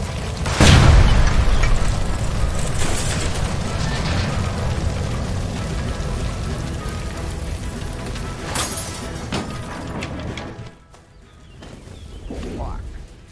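A gas line blows up in the 1940s detective game L.A. Noire: a loud, deep boom at the start rolls into a long rumbling roar, with a second burst later and shouting voices over the din.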